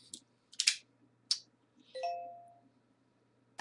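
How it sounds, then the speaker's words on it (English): Doorbell ringing indoors, a few short sharp chimes followed by a clear ding-dong tone that rings out and fades, quiet between strikes. "who rang that bell?"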